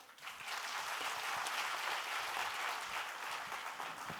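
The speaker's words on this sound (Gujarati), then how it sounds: "વેલકમ કર્યું ને તાળીઓ પાડી" An audience at an alumni gathering claps to welcome a speaker, a dense and steady burst of applause that starts abruptly and holds at an even level.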